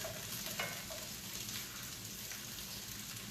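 Broccoli and chunks of garlic frying in a pan, a steady close sizzle and crackle with a few stirring clicks, no talk over it.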